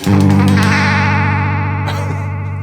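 Electric guitar through a real modulation pedal set to full depth, giving a thick, robotic warble: sustained chords with steady pulsing wobble, loud and close, fading slightly toward the end.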